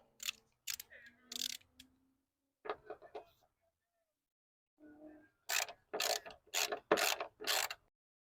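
A hand ratchet clicks in short bursts while loosening a 12 mm hood hinge bolt on a 1992-2000 Mitsubishi Montero, close and crisp with pauses between strokes.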